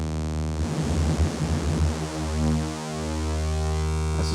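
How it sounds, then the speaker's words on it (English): A Roland JP-8000 synthesizer plays its supersaw oscillator, six or seven detuned sawtooth waves stacked into a thick, buzzing sustained chord. The tone holds steadily and loudly, shifting slightly in texture. "this is probably one of the classic sound of the JP-8000, the super saw"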